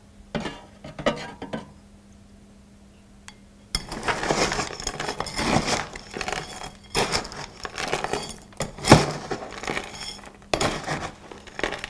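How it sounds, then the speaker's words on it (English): Metal scoop shovel coated in release agent dipped and worked in a tub of asphalt cold patch, irregular scraping, clinks and gritty knocks close by, alone with no talk. "I'm going to apply asphalt release to this scoop shovel and dip it in a tub of this asphalt cold patch here"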